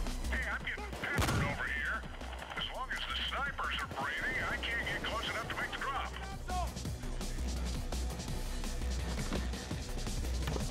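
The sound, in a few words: gunfire in the Payday 2 video game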